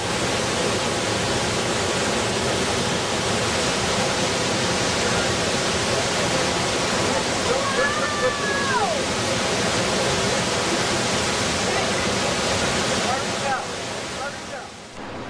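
Bujagali Falls on the Nile in Uganda, a broad, steady roar of rushing whitewater filling the space, with faint bird chirps and a voice speaking over it.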